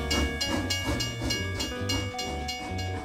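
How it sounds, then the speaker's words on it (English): A cartoon freight train rolls along in a children's shapes animation, with a rhythmic chugging pulse under steady whistle-like tones. It plays at moderate level with no talking. "Buggy, the freight train, it's on its way"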